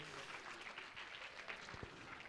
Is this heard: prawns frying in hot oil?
no